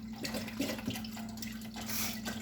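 Liquid spilling and splashing as it is poured into a pot of beef barley soup, a close, continuous watery pour with small splashes and a steady low hum beneath, no talk.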